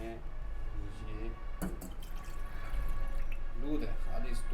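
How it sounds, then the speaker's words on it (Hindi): Pure milk being poured into a pot for making milk tea: a steady liquid pour with dripping and splashing, close by, under a voice talking throughout. "सिर्फ और सिर्फ दूध डालेंगे, दूध वाली चाय पियेंगे।"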